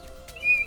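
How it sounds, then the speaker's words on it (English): A toy steam engine's whistle from a Thomas the Tank Engine story, one short high clear tone swelling and fading over a steady low hum. "Then he heard a whistle"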